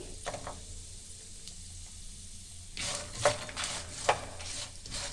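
Grated coconut is dry-roasted in a pan for chutney, with a soft steady sizzle broken by a few sharper scraping strokes of a spatula stirring against the pan.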